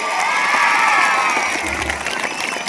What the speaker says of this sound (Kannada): ಅನ್ನೋದಕ್ಕೆ ಒಂದು ಚಪ್ಪಾಳೆ